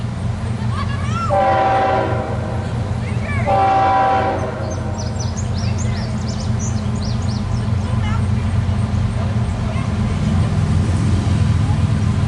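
A heavy CSX double-stack intermodal freight train rumbles past continuously with a loud low roar and rattling, while two long horn blasts sound early on.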